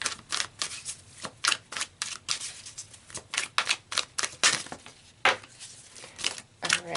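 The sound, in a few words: tarot cards being shuffled and drawn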